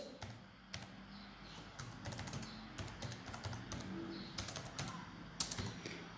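Someone types on a computer keyboard while writing a letter in Word, producing faint, irregular clusters of quick key clicks over several seconds.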